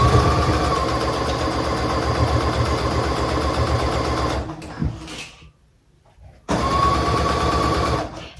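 A sewing machine stitching the hem of a mermaid dress being remade into a bodycon midi runs in a loud, steady close whir, pauses briefly amid fabric handling, then starts up again.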